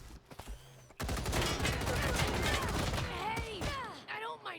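Turret gunfire in the video game Wasteland 3, a sustained loud burst of rapid shots after a brief lead-in, with whistling ricochet-like tones trailing off near the end.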